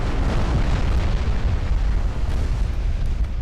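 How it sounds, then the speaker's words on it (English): Heavy 15-inch naval guns fire in a naval warfare game, a loud continuous rumble of booming blasts with no voices. "That's 15-inch guns doing work."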